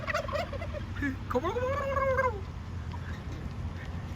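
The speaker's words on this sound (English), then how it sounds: "So those are the turkeys that Bird has been looking at." A turkey gives a rattling gobble, a drawn-out wavering call in the middle, with a few scattered clucks before it over a low background hum.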